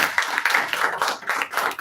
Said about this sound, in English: So can we have a round of applause for all of us?